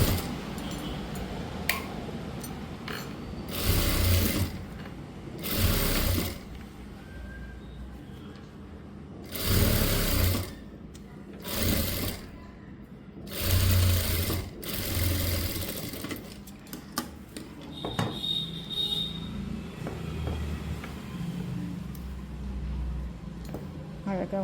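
Sewing machine double-stitching a blouse, running in several short bursts of a few seconds each with pauses between, fairly close, with quiet talk and handling noise in the gaps.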